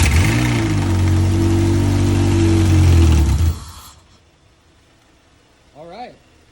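A K-swapped Honda Integra engine runs loud and steady with a rough, pulsing note for several seconds, then cuts off abruptly, leaving quiet with a brief voice near the end.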